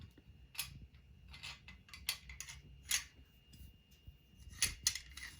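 Parts of an M1 carbine being fitted together during assembly, giving a series of sharp, close metallic clicks and snaps at irregular intervals with quiet handling noise in between.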